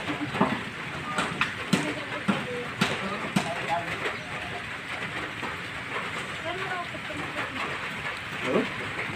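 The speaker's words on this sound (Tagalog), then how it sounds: "Malakas ang ulan." Steady heavy rain hissing and pattering continuously, with scattered louder drips and knocks and a voice talking faintly underneath.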